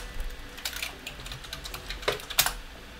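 Keys tapped on a computer keyboard while entering a user password during a Linux Mint setup, a quick run of light clicks and clacks with a couple of sharper strokes near the end, close and with no talk.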